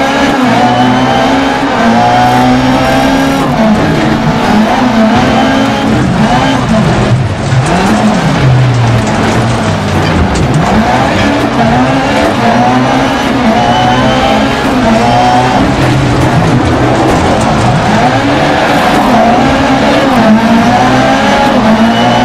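Rallycross car in Dirt Rally 2.0 on the Hell, Norway track: a loud, constant engine roar with repeated revving swells, gear changes and wheel spin scrabbling on the surface, filling the whole stretch without talk.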